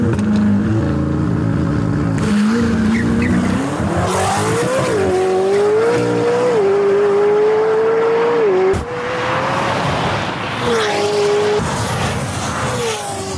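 A Tesla electric car drives fast with a loud, close whine whose pitch rises and falls as it speeds up and slows. Rushing road noise and a hint of tire squeal run underneath, with a sharp change in the sound partway through.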